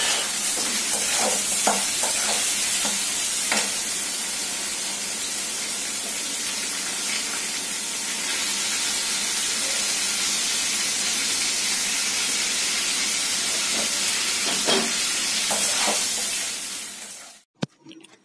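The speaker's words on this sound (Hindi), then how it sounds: "साथ में चिकन भी प्याज के साथ साथ फ्राई हो जाएगा।" Chicken frying with onions in a pan on the stove, a steady loud sizzle with occasional stirring scrapes throughout, cutting off abruptly at the end.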